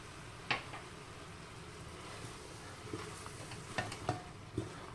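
A spoon stirring annatto powder into a simmering beef brisket sauce, quiet soft bubbling and sizzling broken by a few scattered clicks and scrapes, with no talking.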